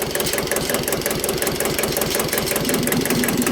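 A Kubota L1501 single-axle tractor's two-cylinder engine runs steadily and close by, its loud, even knocking rhythm continuous and free of voices.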